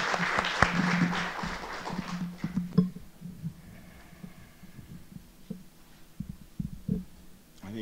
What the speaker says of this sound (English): Please help me give them a warm round of applause.